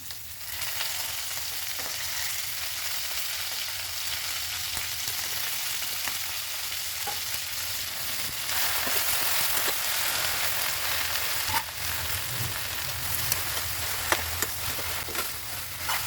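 Pork pieces fry with roselle leaves in a pan, giving a continuous dense sizzle and crackle that swells slightly partway through, with occasional stirring clinks and no talking.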